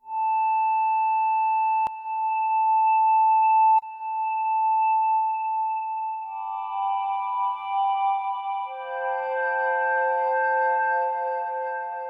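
A clean, pure tone from a Groove Synthesis 3rd Wave 8M synthesizer sustains with a brief glitchy click of digital artifact partway through, then shifts into a richer, layered chord.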